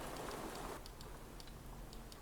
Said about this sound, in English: It's like the little pitter-patter noise of rain.